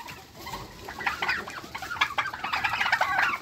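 Several chickens cluck and chatter close by in an irregular, busy stream of short calls, growing a little louder over time.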